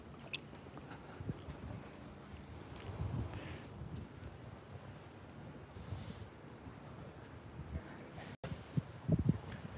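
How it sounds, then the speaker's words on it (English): Gusty wind rumbles across an outdoor fishing spot and buffets the microphone in a steady low roar, with a few faint knocks near the end. "Oh man, this wind."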